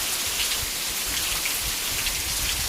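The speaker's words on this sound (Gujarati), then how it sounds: "એવો વરસાદ ચાલુ થઈ ગયો" Rain falls steadily in a village, a dense, even hiss of drops on surfaces holding constant for the whole clip at moderate volume, with no voices.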